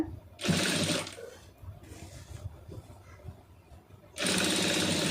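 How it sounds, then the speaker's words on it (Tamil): An electric sewing machine stitching falls onto a saree, with two loud sustained runs of rapid needle whirring at start and end, and quieter fabric handling and clicks between them, close by. "அந்த மாதிரி வந்து தையல் போட்டுருங்க"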